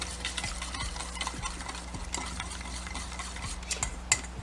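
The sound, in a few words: mixing wasabi mayo dipping sauce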